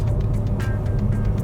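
A 2023 BMW M3 Competition Touring driving, a loud deep engine drone heard from inside the cabin, steady and close, with faint rhythmic tyre thumps over the road.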